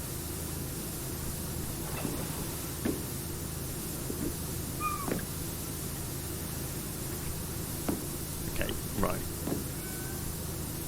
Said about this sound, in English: I keep hearing the mewing of a cat